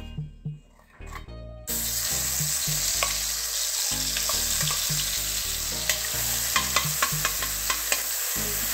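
Oil heats in a pan for Maharashtrian amti, breaking into a loud, steady sizzle after a quiet start, with scattered crackles and pops over low background music.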